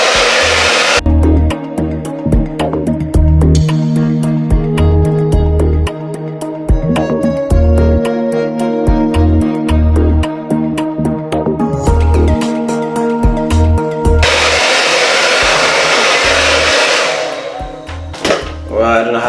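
A handheld hair dryer blows loud and steady for most of the stretch, its airflow shifting as it is moved around during brush styling, while a person talks over it intermittently.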